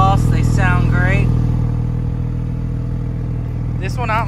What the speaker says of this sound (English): Dual exhaust, they sound great.